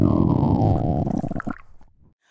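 A human stomach growls in a loud, close rumble of bubbly, gurgling texture that lasts about a second and a half, then trails off into silence. No one speaks over it.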